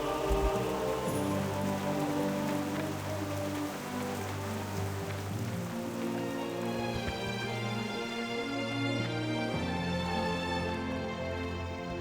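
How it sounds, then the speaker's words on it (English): Rain falls steadily in the Stormwind capital city of World of Warcraft, a dense continuous patter under game music with tonal chimes, no voices. "now we have rain here in Stormwind"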